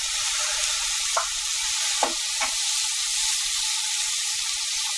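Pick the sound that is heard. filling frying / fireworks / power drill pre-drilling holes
filling frying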